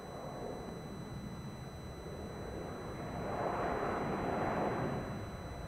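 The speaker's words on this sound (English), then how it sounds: "787-8. Jetstar 566, runway 27, clear for takeoff." A Jetstar Boeing 787-8 Dreamliner taking off from runway 27 at Melbourne Airport, heard as a broad, steady jet-engine roar that swells louder partway through and then holds, distant and continuous, with no talking.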